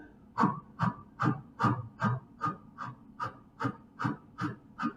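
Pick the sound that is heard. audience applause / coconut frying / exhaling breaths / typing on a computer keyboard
exhaling breaths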